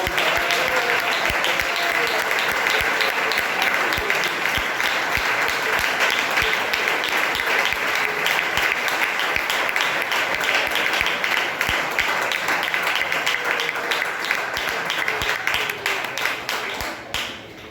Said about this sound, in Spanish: Denle un aplauso con todo su corazón.